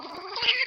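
A cat grumbles in a short, low, complaining yowl, close and fairly quiet, the sound wavering briefly before trailing off.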